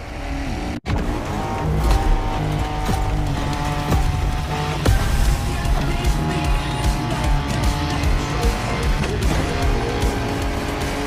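A car drives off-road in The Crew Motorfest, with a steady loud engine roar and rumbling tire noise that continue throughout, overlaid with game music.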